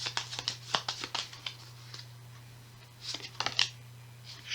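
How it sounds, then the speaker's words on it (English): A deck of cards shuffled repeatedly at a tabletop game of Shadows of Brimstone, crisp riffling bursts in quick clusters close by, over a steady low hum. "Shuffle up again."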